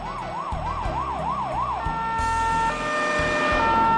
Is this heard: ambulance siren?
yes